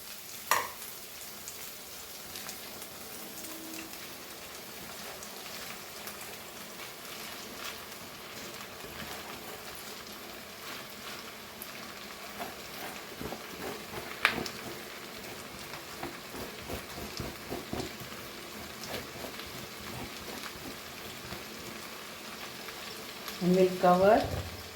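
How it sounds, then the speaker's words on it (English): Potatoes frying in a pan with spinach being added, giving a steady low sizzle and scattered stirring scrapes throughout, with a louder clatter of utensils near the end. "Now we'll add our spinach to this."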